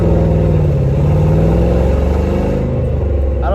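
A car engine with a fuel or throttle fault drones loudly and close, a thick steady hum with slightly wavering pitch that thins out toward the end.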